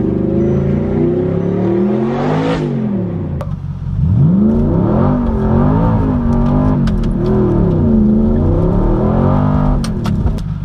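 Audi R8 engine revving while driving, loud and close, rising in pitch to a peak, dropping, then climbing again through a series of swelling, wavering revs with a steady roar underneath.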